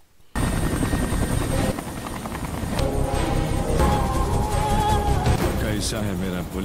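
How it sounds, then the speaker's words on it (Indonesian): A helicopter lands nearby, its rotor thumping steadily and loudly under a constant turbine whine that builds slightly over several seconds, with a voice talking over it. "Di sana terlihat sebuah helikopter mendarat"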